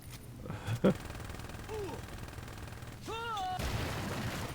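Gunfire in the Saints Row 2 video game: a short burst of sharp shots near the start, then a game voice calls out and a low background hum continues.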